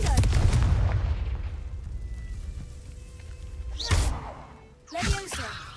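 A Confringo spell blast in the Hogwarts Legacy video game gives a booming burst with a whoosh, followed by further sharp magical impacts. It is loud and close, with game sounds around it.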